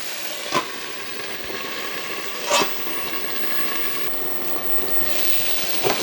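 Snap peas lightly steaming in a hot stir-fry pan, giving off a steady broadband hiss and sizzle with a few brief sharper pops, moderately loud and continuous without any talk.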